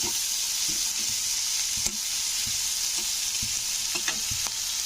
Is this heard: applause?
no